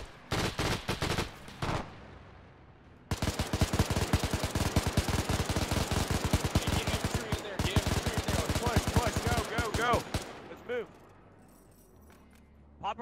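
A machine gun in the WW2-era video game Arma 3 fires loud, rapid, sustained bursts, one short volley, a brief pause, then a long unbroken string of rattling shots that trails off into scattered single cracks.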